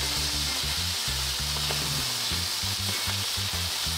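Thick chicken breast sizzling steadily in hot olive oil in a pan, a loud, continuous close-up hiss with a low rhythmic thumping of music underneath and no talk.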